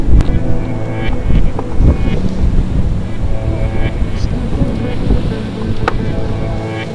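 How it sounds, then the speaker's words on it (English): Strong wind on a mountain buffets the microphone in heavy, uneven gusts, a loud rumbling rush with occasional sharp knocks. "it's so windy that I can't really come up here to film"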